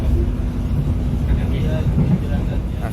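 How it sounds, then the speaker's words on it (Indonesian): Another train passes on the line near Krupuk station, a loud, steady broadband rumble and rush that fills the whole stretch without a break. "Ini papasan dengan kereta api."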